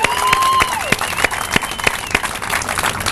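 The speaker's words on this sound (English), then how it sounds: "So let's give Scott another applause here." Applause from a crowd at a bike lane ribbon cutting ceremony in Wichita, a steady wash of clapping with sharper individual claps standing out over a few seconds.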